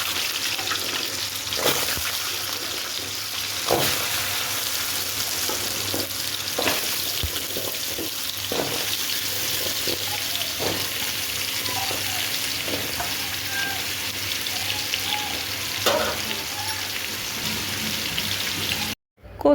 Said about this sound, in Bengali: আমি কচুরমুখী একটু ভাইজা রান্না করি